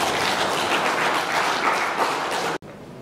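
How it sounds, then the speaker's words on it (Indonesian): Applause from an audience at a plaque signing ceremony inaugurating a university hall, a dense steady clapping that fills the space before cutting off abruptly near the end. "mari kita berikan tepuk tangan dan apresiasi"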